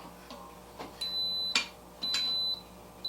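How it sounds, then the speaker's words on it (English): An Instant Pot electric pressure cooker beeps when it is switched to saute mode: two bright, steady electronic tones, each lasting about half a second, one after the other, heard close over faint kitchen noise. "That beep just means I switched to saute."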